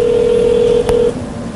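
A single steady telephone tone plays loud and close, cut by one brief sharp keypress beep as a number is dialed for a prank call, then a quieter line hum follows.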